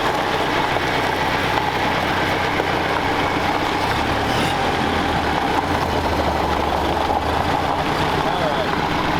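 A 1932 Ford Roadster with all-original parts and highway gears rumbling along on the road, a steady loud engine drone with road noise throughout, while people talk over it.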